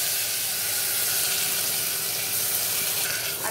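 Chopped onions frying in hot oil with asafoetida: a steady, fairly loud sizzle with a hissing, crackling texture that holds evenly throughout.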